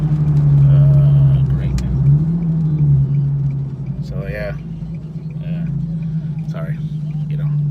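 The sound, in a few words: Nissan 370Z with ISR test pipes driving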